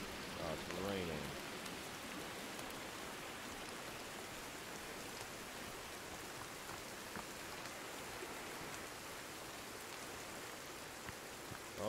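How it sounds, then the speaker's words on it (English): Rain falls steadily in a survival video game, a constant soft hiss of drops on surfaces that holds at an even, fairly quiet level throughout with no other clear sounds. "Oh, it's raining."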